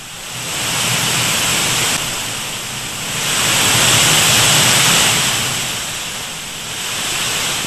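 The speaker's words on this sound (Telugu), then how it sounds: "వరద ఉధృతికి కనువిందు చేస్తున్నాయి జలపాతాలు" Floodwater from heavy rain crashes down waterfalls near the Umamaheshwara temple in Nagarkurnool, a loud continuous roaring rush that swells and eases in waves, with no voices.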